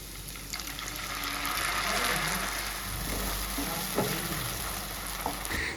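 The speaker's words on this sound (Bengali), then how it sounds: "প্রথমে কিন্তু একটু গ্রেভিটা দিয়ে ভালো করে ভাজা ভাজা করে নিচ্ছি" Fish gravy fries in a pan with a steady close sizzle and occasional stirring scrapes, continuous throughout without talk.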